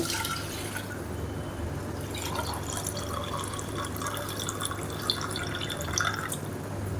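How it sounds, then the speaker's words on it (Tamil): Water poured into a cooking pot for Madurai-style mushroom biryani, a soft, steady splashing trickle that runs evenly for several seconds, faint and without speech. "இப்போ இதில் எக்ஸ்ட்ரா நம்ம அரை டம்ளருக்கு தண்ணி ஊற்றிக்கலாம்"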